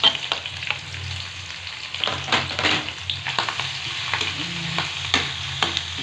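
Pork meat hits rendered pork fat in a pan and sizzles steadily up close, with intermittent scraping and stirring bursts over the constant frying hiss.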